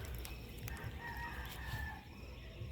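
Chickens roam a vegetable garden, giving a faint distant crow and scattered soft clucks over low outdoor background noise.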